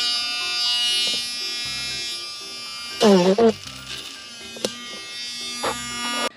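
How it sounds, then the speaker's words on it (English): A small Dremel with a felted tip buzzes steadily while buffing gold-plated jewelry, a thin high-pitched whine that stops and restarts, with a person talking briefly over it partway through. "This is a small Dremel with a felted tip, and you can see that I buffed until that tip turned black."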